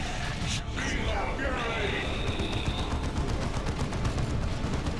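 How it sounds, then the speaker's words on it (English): Mastercrafted Bolter gunfire in the Dawn of War II: Retribution strategy game rattles amid dense battle noise of shots and explosions, with a commentator talking over the continuous action. "And now the Mastercrafted Bolter from Dark Riku, disrupting and comes very close to killing that Ravener Alpha"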